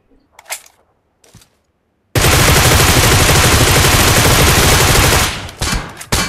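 Gunfire in a mobile shooter game played solo against squads: a few scattered shots, then a loud, dense burst of rapid automatic fire lasting about three seconds, followed by more sporadic shots close up; no speech.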